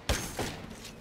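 A shotgun fires twice in the Apex Legends video game. Two quick, muffled booming thumps land about a third of a second apart within a single second, with a fading tail after them.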